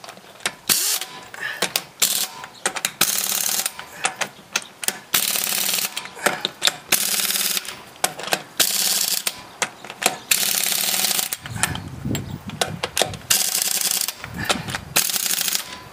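A ratchet tightening the wheel bolts on a 2002 Ford Explorer after a brake rotor job, with rapid clicking bursts in repeated runs, close and fairly loud, then a couple of heavier clunks, no voice.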